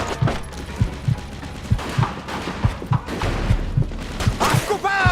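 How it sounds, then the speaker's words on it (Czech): Machine gun fire in the Mafia 2 video game, a steady rhythmic string of thumping shots through the whole stretch, with battle noise and a faint shout underneath. "Vidíš ten kulomet na balkóně, Skeleto?"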